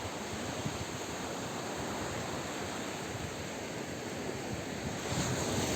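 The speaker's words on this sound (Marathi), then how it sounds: "लाटा किती जोर" Ocean waves crash and roar continuously at Malvan beach in Sindhudurg, a loud broadband wash mixed with wind buffeting the microphone, no voices.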